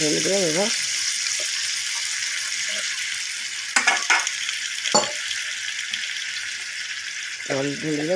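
Potatoes with spices cooking in a pan after water is poured in, a steady sizzle and bubbling with occasional stirring clatter, while a person talks at the start and end.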